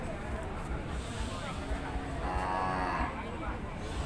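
Cattle lowing at a busy cattle market, a sustained moo rising over crowd murmur and background chatter, moderately loud and fairly near.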